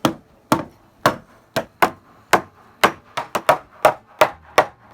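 Wooden deck post notches being tapped together, a series of about fourteen sharp, hard knocks in irregular rhythm, close and loud with nothing else between them.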